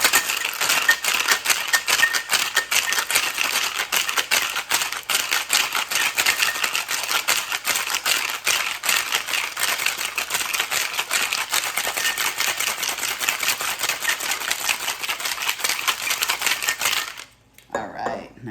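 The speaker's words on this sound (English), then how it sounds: "We're going to give it a good bunch of shakes." Ice rattling hard in a cocktail shaker as a cocktail is mixed, a dense, continuous clatter held for about seventeen seconds, then stopping abruptly with a few faint knocks after.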